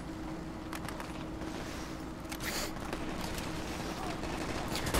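SMG and assault rifle gunfire in the video game Brink, with bursts of rapid shots and mechanical clicks that run under a voice.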